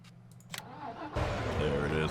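In Farming Simulator 19, a tractor engine cranks with a few short clicks, then catches and settles into a loud, steady running rumble, with a voice speaking briefly near the start.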